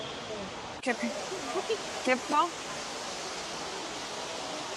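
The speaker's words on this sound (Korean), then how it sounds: "와, 폭포 멋있긴 하다, 근데." A waterfall in the middle of a city near Seoul pours in a steady, even rush, with a few short bursts of nearby talk over it.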